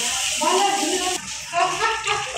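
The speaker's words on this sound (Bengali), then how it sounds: "এখন আমি এতে পানি দেবো।" Water pours into a cooking pot in a home kitchen, a steady splashing rush that shifts in tone partway through and continues at moderate loudness.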